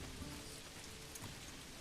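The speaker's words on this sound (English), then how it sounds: "I want to get out of this awful rain." Rain falls in the medieval city-building video game Manor Lords, a steady, dense patter and hiss that never lets up, with no other sounds on top.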